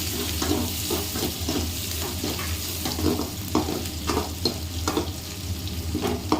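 Puffed rice churmuri stirred in a hot pan gives a steady dry sizzle with repeated scraping strokes at an even rhythm, close and fairly loud, with no talk.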